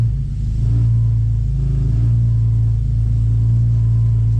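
BMW S54 inline-six with a dual exhaust, idling at cold start around 1100 rpm with a possible exhaust leak, giving a steady, loud, deep rumble throughout with no talking.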